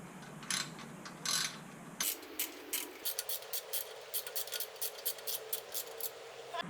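A ratchet wrench snugs two hex bolts holding a bottle jack on a Harbor Freight lift, its close, crisp clicking coming in quick bursts of short strokes with no talking.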